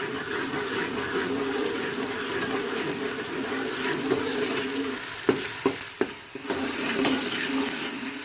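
Steady sizzling of garlic and ginger paste frying in a pan, with a few clinks and scrapes of stirring near the end.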